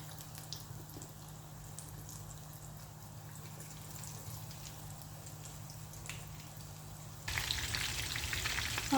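Chicken pieces fry in hot oil for a crispy coated dish, giving a low steady sizzle that swells suddenly louder and brighter near the end, with no talking.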